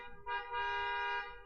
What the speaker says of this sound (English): it's honk time